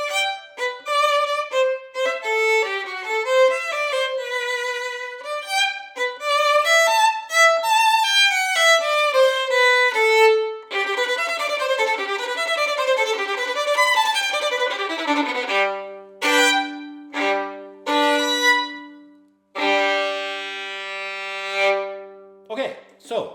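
A solo violin plays a fast, flowing passage from the third movement of Seitz Concerto No. 2, then closes with several heavy, separated bow strokes and a final sustained note.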